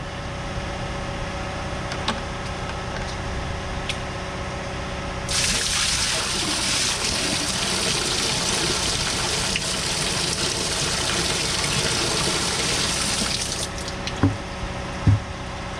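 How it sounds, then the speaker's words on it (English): Steady rushing water, then a loud broad gush as a bucket of water is poured down a drain hole and drains for several seconds before easing back to a softer trickle. "put one more bucket down the hole"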